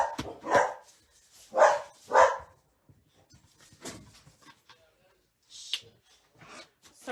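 Several dogs bark in sharp, scattered bursts at close range, some loud and some fainter, with brief pauses between them.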